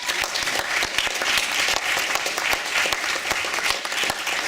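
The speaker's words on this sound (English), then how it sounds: "I want you to give a round of applause for Janal Harris" An audience at a creative arts festival applauds panelist Janal Harris, known as Quamstar, with dense, steady clapping from a sizable crowd that holds at an even level throughout.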